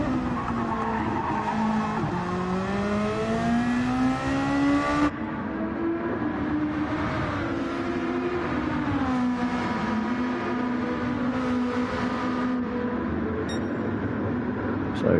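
A race car in a racing video game runs a lap in Scottish livery, its engine note holding steady and rising through the gears with tyre squeal, loud and close throughout while a commentator talks over it.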